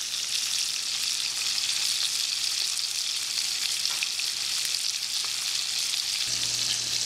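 A spice-crusted mahi mahi fillet sears in a hot pan, giving an even, loud hiss that holds steady for the whole stretch with faint pops and no voices.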